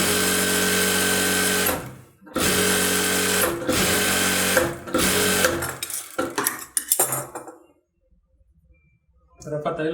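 Blouse lining fed through a sewing machine in loud, fast stitching bursts with short stops between runs. The motor ends in a few stuttering stitches before falling quiet, then restarts at the very end. A voice talks over it.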